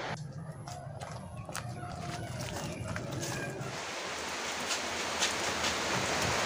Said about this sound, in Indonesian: Aduh, kabur hujan.